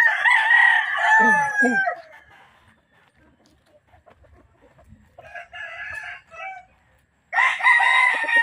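Raptor Sweater gamefowl rooster, with Allen Roundhead birds nearby, crows loud and close twice, the long calls opening and ending a short stretch, with a few softer clucks and faint background noise between them.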